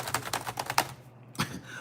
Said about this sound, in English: Fake typing.